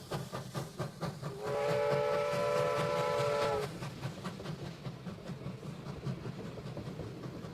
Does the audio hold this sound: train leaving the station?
yes